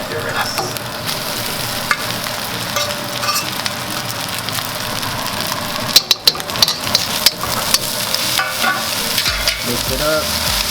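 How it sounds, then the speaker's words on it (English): Cooked rice sizzles steadily in a hot pan as it is stir-fried for pork fried rice, with occasional sharp scrapes and clanks of a utensil against the metal. "You're just going to add your rice."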